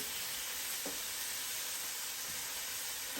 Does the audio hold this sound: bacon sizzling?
yes